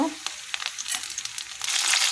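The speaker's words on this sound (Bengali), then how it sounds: "এবার আমি এর মধ্যে মাছের মাথাটা দিয়ে দেব" Fish head frying in hot oil, a bright crackling sizzle with a few pops and scrapes, growing louder toward the end.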